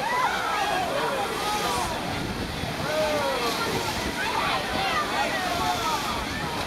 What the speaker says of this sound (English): Now, I am going to splash in the hose.